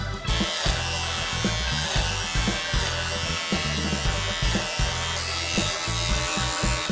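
Electric hair clippers buzz steadily up close, the tone roughening and dipping as they cut through hair.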